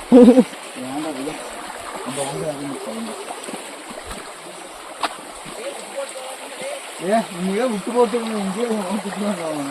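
Water rushes over rocks at Vaidehi Falls, a continuous wash sitting beneath lively, close voices of people talking and calling out over it.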